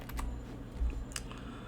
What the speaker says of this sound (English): So what's wrong with my keyboard?